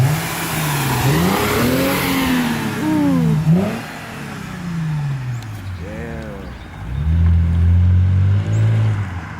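A Lexus IS250 with an HKS Hi Power exhaust revs loudly and up close in several rising and falling bursts, the throaty exhaust note climbing and dropping, with a brief spoken exclamation in between.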